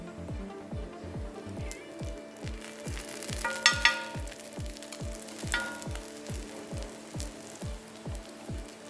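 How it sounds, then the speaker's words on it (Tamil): Stuffed net-crepe murtabak (jalar) frying in oil, with a moderate sizzle and a few louder crackles over a steady, rhythmic low thumping that repeats about twice a second. "அப்போ தான் நல்லா பொரியும்"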